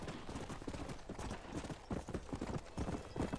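Horse hooves clop in the Red Dead Redemption video game, a rapid, continuous run of dull thuds in a steady galloping rhythm, fairly close and uninterrupted throughout.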